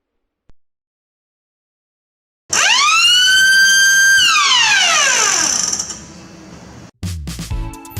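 A loud electronic home automation alarm siren, triggered by a smoke detector, wails, rising and holding a steady tone before sliding down, then a short burst of harsher buzzing follows.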